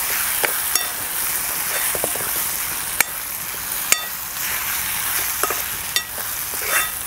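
Grated coconut and garlic sauté with tomatoes in a pan, a loud steady sizzle broken by sharp clicks and scrapes of a spoon stirring against the pan.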